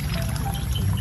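Water pouring steadily and forcefully, a continuous close rushing gush filling the whole short moment with no talk.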